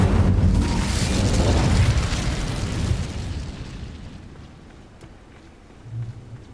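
An Incendio fire spell blast in Hogwarts Legacy erupts as a loud, roaring boom that slowly fades over several seconds, followed by a faint low thump near the end.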